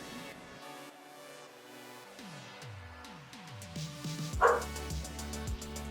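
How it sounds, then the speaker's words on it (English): A small dog yaps and whines a few times, high-pitched and fairly close, over steady background music. "My puppy."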